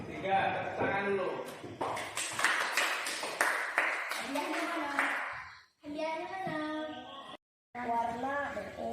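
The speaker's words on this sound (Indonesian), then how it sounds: "tepuk tangan dulu" A class claps hands together in a classroom, a burst of clapping mixed with children's voices and chatter, then talk continues after a brief pause.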